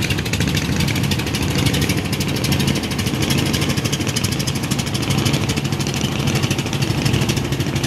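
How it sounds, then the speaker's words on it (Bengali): Two passenger ships racing after leaving Sadarghat give off a steady, unbroken engine drone throughout, moderately loud, with no speech. "দুইটা যাত্রীবাহী জাহাজ সদরঘাট থেকে ছেড়ে আসতেছে, তাদের গন্তব্যের উদ্দেশ্যে ছুটে চলেছে।"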